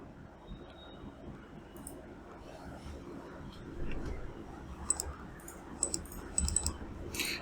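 Computer mouse clicks during a software tutorial, a series of small sharp clicks including a quick double click, close and fairly quiet, with light background noise and occasional soft speech.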